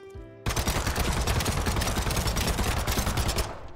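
Rapid continuous burst of automatic fire from a Vector submachine gun fitted with a damage compensator in BattleBit, loud and sustained after a brief quiet start, alone without talk.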